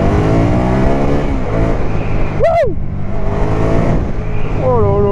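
A loud Can-Am Spyder 990 three-wheeled motorcycle engine drones steadily up close, climbing in pitch as it accelerates in first gear, with a brief whistling chirp in the middle.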